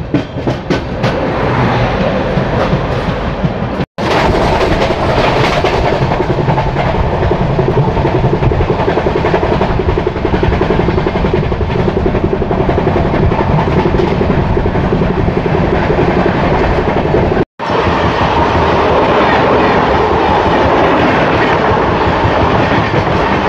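The Puri–Howrah Shatabdi Express entering Bhadrak station, a loud sustained rail roar with clickety-clack over the joints, continuous for the whole span apart from two brief dropouts, no speech.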